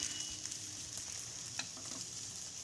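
Onion, coconut, garlic, ginger, tomato and chili fry together in a pan for a dry bombil curry, giving a soft continuous sizzle broken by a few faint stirring clicks and scrapes.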